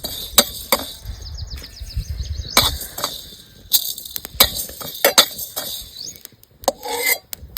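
A metal spatula scrapes and taps in a wok as coriander seeds are dry roasted, with repeated rasping strokes and sharp clinks close up.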